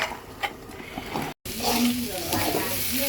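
Vegetables cooking in hot oil in a pan, a steady close sizzle with stirring scrapes, briefly cut by a short gap, then louder frying continues alone.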